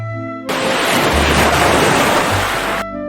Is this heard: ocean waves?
yes